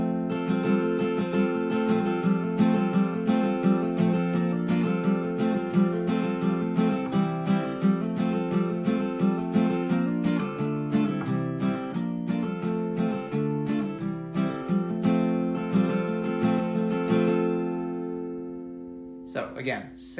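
A guitar plays the interlude from a song, steady strummed and picked chords ringing close and clear, then fading out near the end before a couple of faint handling sounds.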